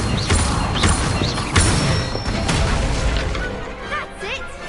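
A fire spell cast in a Harry Potter video game, heard as a run of whooshing bursts and booming magical impacts with creaking, mechanical game effects, loud and close, alongside other spell sounds.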